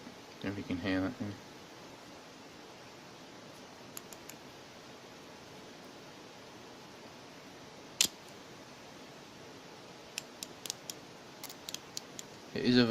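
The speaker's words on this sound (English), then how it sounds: "That's obviously a natural operating of this particular ratchet." A Britool Hallmark SR180 long 1/4-inch drive chrome-vanadium ratchet gives sparse, faint, fine-toothed clicks, in short bursts and single ticks, with a voice speaking briefly at the start and end.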